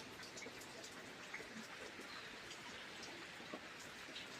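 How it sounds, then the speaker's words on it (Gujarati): Steady overnight rain falls continuously as a faint, even wash of patter with scattered drops, no voices present. "રાતનો ભાઈ ચાલુ છે હો વરસાદ"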